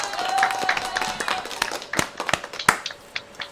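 Scattered, sparse claps and sharp hand slaps ring out irregularly during a live online show, a thin recorded applause effect of distinct separate smacks rather than a full crowd, with a steady tone and faint talk underneath.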